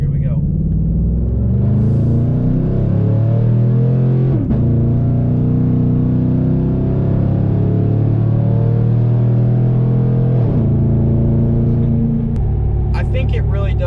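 Engine fitted with an S&B cold air intake, pulled at full throttle: a loud, close, droning roar whose pitch climbs steadily, breaks twice at gear shifts, then climbs again, running continuously throughout.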